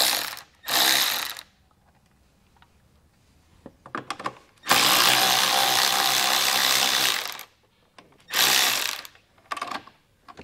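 Screws being backed out of a vehicle taillight, either Phillips head or 10 millimeter, with a ratcheting tool: short clicking ratchet bursts, then a long loud spell of continuous mechanical whirring near the microphone, followed by brief further bursts.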